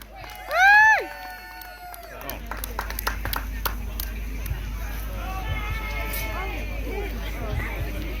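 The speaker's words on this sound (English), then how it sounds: "So everybody give him a round of applause" Crowd at an outdoor charity sleep-out event in Slough gives a round of applause, scattered claps and cheers building after a loud whoop, with people talking over the steady patter.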